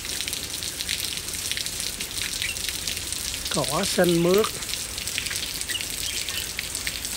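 Heavy rain falls over a flooded pond and grassy yard in the US, a constant close hiss of drops, with someone speaking briefly over it midway.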